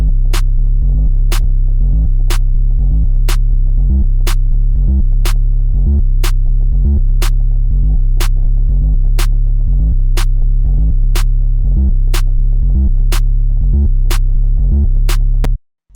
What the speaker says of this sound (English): So next I then put down this 808 and it just follows the notes of the first bass that I put down.